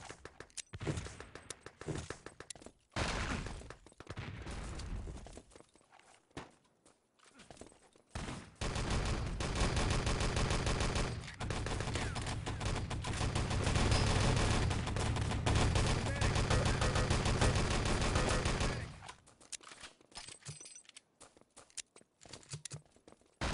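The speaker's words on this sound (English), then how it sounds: "Nice rifle from Coop" Sustained gunfire from the online shooter Enemy Territory during a competitive match, with scattered shots early, then a long dense stretch of rapid firing and explosions before thinning out again.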